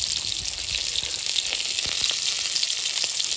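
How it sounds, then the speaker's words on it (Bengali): Salted pointed gourd (potol) pieces fry in hot oil, giving a steady, loud, close sizzle with a constant crackling hiss and no voices. "এবার পটলগুলো ভেজে নিচ্ছি।"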